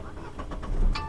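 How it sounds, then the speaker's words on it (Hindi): A used car's engine cranks and catches, a short burst of starter whirring followed by the motor firing up, close and clear with no talking. "तो सबसे पहले हम गाड़ी स्टार्ट करेंगे।"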